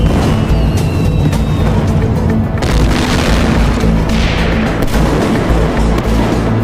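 Fireworks factory explosions in a small village make a continuous, loud, booming roar of blasts and crackling detonations that rumble on without pause.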